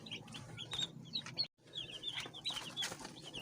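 Two-day-old chicks on a small household poultry farm chirp in bright, rapid peeps that overlap continuously, near and moderately loud, with a brief gap midway.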